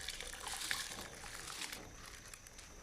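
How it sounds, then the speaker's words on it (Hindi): Rice pours into a pot of water set to boil with lemon and a lemon half, making a soft, steady splash and trickle that is faint and continuous throughout. "और साथ ही ये चावल हम उबालने के लिए पानी में डाल देते हैं।"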